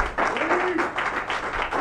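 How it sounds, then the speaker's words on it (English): An audience at a live talk-show taping applauds as a guest is welcomed on stage, steady clapping filling the room throughout with a few voices mixed in. "A round of applause."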